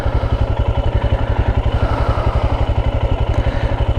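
A Royal Enfield Himalayan 411 motorcycle idles close by, its single-cylinder engine thumping in a steady, even rapid rhythm throughout with no voices.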